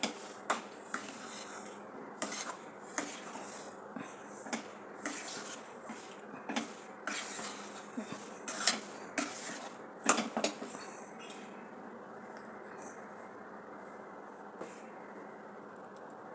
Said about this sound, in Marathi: साईडचा पण मध्ये घेऊन पुन्हा मिक्स करायचं.